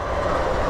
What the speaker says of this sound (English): An ethanol train bound for Tampa has stopped here to get a new crew.